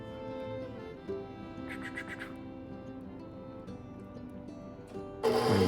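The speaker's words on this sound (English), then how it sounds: "we're going to give those a whisk." A whisk scrapes rapidly through four egg whites in a bowl, a steady rhythmic scratching that runs for several seconds and ends in a louder, rougher burst.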